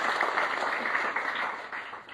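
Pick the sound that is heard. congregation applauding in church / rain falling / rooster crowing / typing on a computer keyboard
congregation applauding in church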